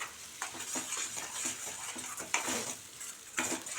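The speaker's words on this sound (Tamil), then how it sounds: "நல்லா வதக்கி விட்டுக்கிடணும்." Mango thokku is sautéed in oil in a pan, with a soft sizzle under repeated scraping and stirring strokes of a spoon against the metal, close by with no talking.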